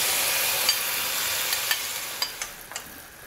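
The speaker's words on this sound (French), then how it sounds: "On va saisir les oignons." Onions and tomatoes sear in a hot pan, a bright steady sizzle punctuated by a few sharp clicks of stirring, close and alone without speech.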